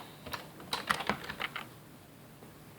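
A name being typed on a computer keyboard while setting up a surface in LightWave 3D, a short run of light, quiet key clicks over faint room hiss.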